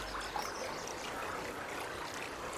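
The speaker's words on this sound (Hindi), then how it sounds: "यहाँ पानी की गूंज सुनाई दे रही है।" Steady flowing stream of water at a quiet resting place, a continuous soft trickling wash with no talk over it.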